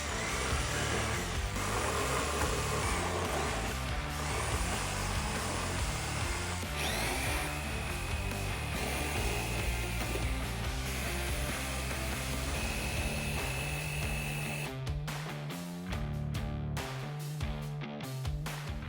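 Power tools, a jigsaw and a reciprocating saw, rough up and distress a faux wood beam with a continuous harsh buzzing and rattling that ends in a few scattered knocks and scrapes, loud and close.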